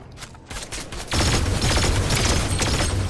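Rapid bursts of gunfire in the Fortnite video game crackle loudly and densely, growing heavier and nearly continuous after the first second, with no talk.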